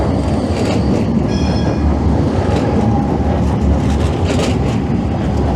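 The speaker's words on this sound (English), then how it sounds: "Speak of the devil, here comes a tram." Loud, close rumble and rattling wheels of a tram passing on a street in Porto, continuous throughout, with faint higher squeal and clatter on top.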